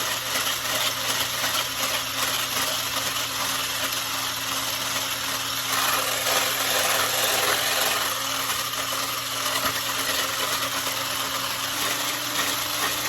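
Electric mixer whisking egg whites for zero-carb cloud bread toward stiff peaks, a continuous close motor whir and hum holding steady throughout, with no talking.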